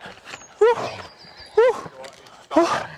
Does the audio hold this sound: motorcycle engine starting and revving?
no